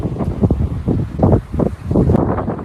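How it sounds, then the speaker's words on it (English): Gusty wind buffets the microphone in uneven low rumbling bursts, close and fairly loud, with no voices. "It's kind of windy right now"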